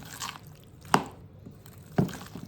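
Store-bought macaroni salad with added egg and pickle is stirred in a bowl, giving soft wet squishing and two distinct louder sticky clacks about a second apart, close and quiet.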